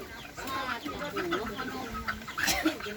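Chickens cluck softly around a rural home, with scattered calls from several birds at a moderate distance and low ambient noise beneath.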